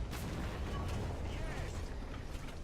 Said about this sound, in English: That is a Leopard A1 that is currently shooting at me